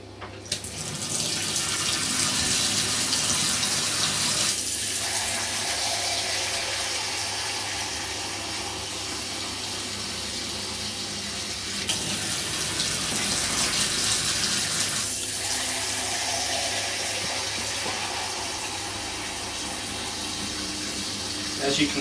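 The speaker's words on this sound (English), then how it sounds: "As you can see, I'm just putting hot water from the tap" Hot water gushing from a tap into a homebrew beer kit vessel, a loud continuous rushing flow with slight surges, steady for the whole stretch with no talk over it.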